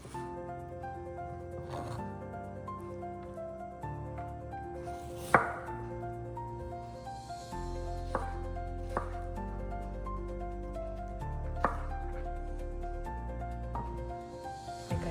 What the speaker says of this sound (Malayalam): നമുക്ക് മാംഗോ ചെറിയ പീസസ് ആയിട്ട് കട്ട് ചെയ്തിട്ട് എടുക്കാം